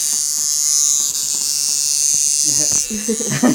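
A tattoo machine hums at a constant, high-pitched, close-up whine during a tattoo training session in a studio, while people talk over it toward the end.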